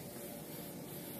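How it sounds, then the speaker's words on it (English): Hairspray from an ordinary aerosol can sprayed onto a Canada Goose down jacket, a steady, close, continuous hiss that lasts the whole moment with no talk. "All you have to do is you got to take a normal can of hairspray."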